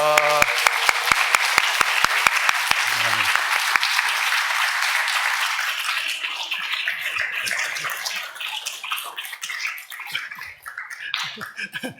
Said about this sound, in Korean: 우리 뒤로 돌아서 인사할 때 여러분들 큰 박수로 격려하겠습니다.